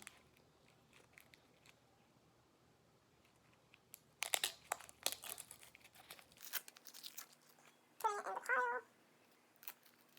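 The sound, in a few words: peeling the skin off a vegetable for salsa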